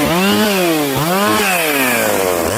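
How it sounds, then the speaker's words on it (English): A ported Whiskey River 262 chainsaw runs loud and close, its engine note rising and falling in quick revving sweeps without pause and with no voices. "So maintain your saws, learn how to tune your saws, and run ported saws, because that's way more fun than stock saws."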